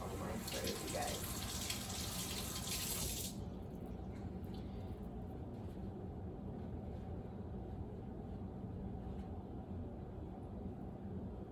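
Tap water runs over raspberries and blueberries being rinsed at a sink, a steady close splashing stream that is brightest for the first few seconds, then settles into a softer, duller flow.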